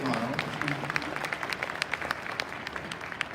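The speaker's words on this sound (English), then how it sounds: "Let's have another round of applause for Miles or Smiles." Audience applause at a live 2019 Move Mining competition, a steady, dense patter of many hands clapping at moderate volume throughout, with a faint murmur of voices underneath.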